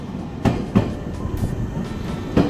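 A Japanese train from Ito Station rolls along steady rails with a low rumble, broken by a few sharp rhythmic clacks of wheels over joints, heard from inside.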